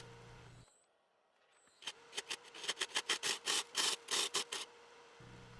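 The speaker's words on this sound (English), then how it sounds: "Where needed, I used the scraper to clean up any chipped edges and bring out smoother transitions." A hand scraper cleans chipped epoxy edges on a wood burl hollow form, which is likely spinning on a lathe. It makes a rapid series of about a dozen close, rhythmic scraping strokes between quieter machine hum at the start and end.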